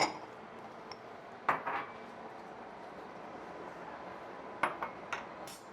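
Bowls set down and moved about on a kitchen counter during a cooking demonstration: a few soft ceramic clinks and knocks, spaced apart, against a low quiet room hum.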